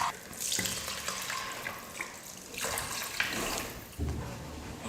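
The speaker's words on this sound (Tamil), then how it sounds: "1 கிளாஸ் அரிசிக்கு 2 கிளாஸ் தண்ணி சேர்த்துக்கணும்." Water pours into a pot of rice for potato biryani, a soft continuous splashing stream that swells and fades in a few bursts, quiet and close with no talking.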